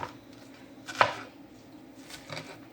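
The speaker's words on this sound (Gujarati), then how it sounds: "પછી આપણે નાના પીસ કરી નાખવાના છે, જોઈ શકો છો" A knife chops Detki fish into small pieces on a board, one sharp, close chop standing out amid a few fainter cuts, with no talking.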